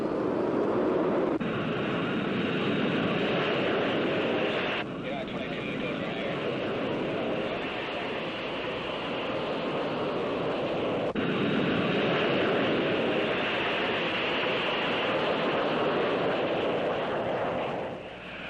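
A jet airliner takes off from runway 25 at Los Angeles airport, its engines a steady, loud, broadband roar that runs throughout with a few abrupt shifts, and no voices over it.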